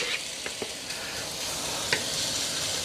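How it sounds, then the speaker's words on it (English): Bacon strips frying in a soup pot for loaded potato soup, giving a steady, fairly quiet broadband sizzle with a few faint clicks of a utensil against the pot. "Let's fry this up to where it's nice and crispy."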